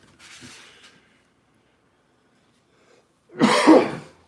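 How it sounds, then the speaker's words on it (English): A faint breathy sound, a pause of near silence, then one loud, harsh cough close by. "Little cough for you there, just to scare you"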